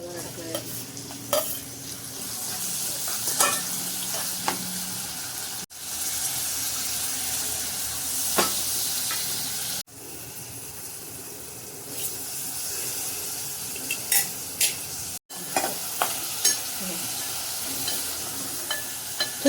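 Two chopped chillies sizzle in hot oil with red chilli masala for bangda masala, a continuous close frying hiss broken by stirring and scraping clatter and several abrupt cuts.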